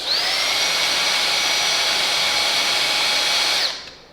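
A Roborock H6 cordless stick vacuum cleaner runs with a loud, steady high-pitched whine and airy rush, then winds down and cuts off near the end.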